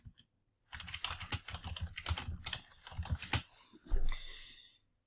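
Rapid clicking keystrokes on a computer keyboard while entering sales invoice details in accounting software, a close, dry burst of taps with short pauses and a louder clack near the end.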